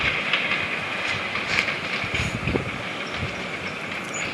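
A train rolls along in a mobile game, a steady rumble and clatter with a high hiss on top, even and continuous with no voice over it.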